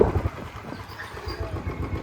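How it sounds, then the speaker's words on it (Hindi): Tractors passing at night on a street in Vrindavan near Atalla Chungi, a low engine rumble with a rhythmic throb, moderately close and steady with faint background street noise. "ये ट्रैक्टर जा रहे हैं"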